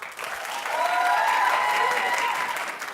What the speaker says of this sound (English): clap if you watched Fashion Police last night